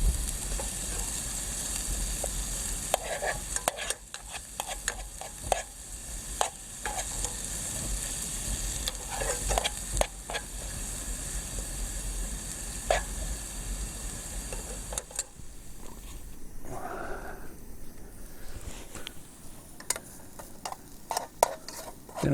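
Onions fry in a pan with a constant crackling sizzle, broken by repeated scraping and clinking as they are stirred, with a quieter stretch of hiss near the end.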